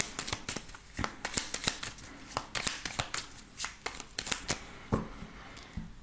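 A deck of tarot cards being shuffled close up, with a long run of quick riffling snaps and flutters in irregular bursts, fairly loud and with no talking.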